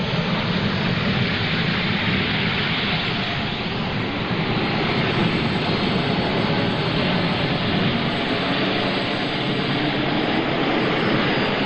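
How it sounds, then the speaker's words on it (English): A turbine-engine pulling tractor at a 1995 NTPA tractor pull in Fort Recovery spools up, a loud, steady, broadband jet-like roar and whine that holds unbroken throughout with no voices. "It takes a little bit of time to fill the engine RPMs on these turbines."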